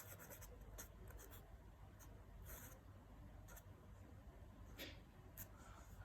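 Pen or marker writing during a maths lesson on matrices, heard as faint intermittent scratchy strokes over a steady low background hum.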